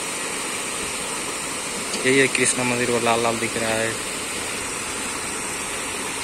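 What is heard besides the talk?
waterfall at Krishna temple, Kathmandu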